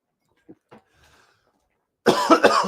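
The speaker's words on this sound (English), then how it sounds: "been coughing all afternoon" A couple of soft throat sounds, then a loud, close burst of harsh coughing near the end.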